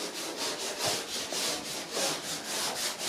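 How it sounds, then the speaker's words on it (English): Hand sanding of body filler on a car's quarter panel during bodywork, a steady run of rhythmic back-and-forth rasping strokes, close and fairly loud, with no talking. "and now sanding"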